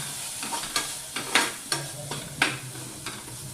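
Fenugreek seed curry with peanuts, salt and black masala sautéing in a pan: a steady close sizzle broken by about six scraping stir strokes at a fairly even rhythm, no voices.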